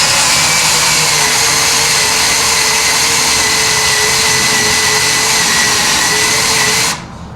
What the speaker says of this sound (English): I've put the drill on a slow speed, so it won't be such hard work for it.